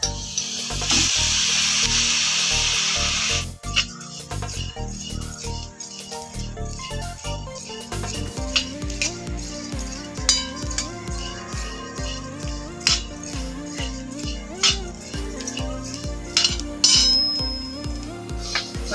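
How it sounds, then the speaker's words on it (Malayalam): Rice roasting in a hot iron pan on a stove for ariyunda rice balls, giving a steady dry crackling and rustling with repeated scraping strokes, fairly close and continuous throughout, with no talk. "ഇരുമ്പേട്ടി ചൂടായി നമുക്ക് അരി വറുക്കാൻ ഇട്ട് കൊടുക്കാം"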